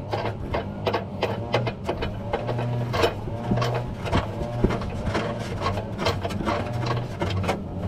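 A nut is turned down onto a carriage bolt while a trailer hitch is installed on a 2018 Chevrolet Traverse, giving a steady run of close metallic ratcheting clicks over a low mechanical whir.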